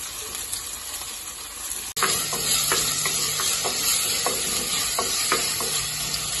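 Chopped big onion and tomato hit hot oil in a pan, setting off a sudden loud, continuous sizzle with scattered crackles and pops that carries on steadily after the drop.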